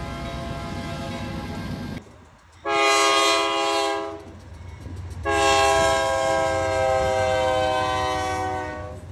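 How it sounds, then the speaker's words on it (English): Train horn in the Open Rails train simulator game: a loud, sustained multi-tone blast that breaks off, returns as a short burst, then sounds again in a long held note over a steady rail rumble, with no voices. "Just listen to the train's horn compared to what it sounds like in real life."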